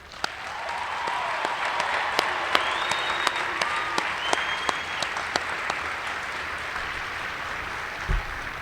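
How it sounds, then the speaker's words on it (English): A crowd in the stands at a US Air Force basic military training coin and retreat ceremony applauds the military training instructors, giving dense, sustained clapping that holds steady throughout, with a faint distant whistle heard above it. "Please join me in a round of applause recognizing their phenomenal efforts."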